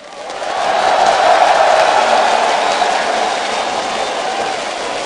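A large stadium crowd at a League of Legends world championship roars and cheers, swelling quickly to a sustained loud din that slowly eases off.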